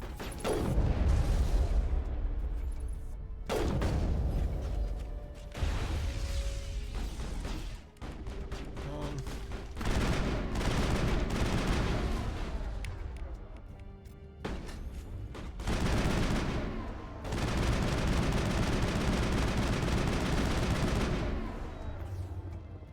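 Sustained gunfire from the Mass Effect video game, rapid automatic bursts and heavy blasts rolling almost continuously at high volume, broken by short pauses between volleys.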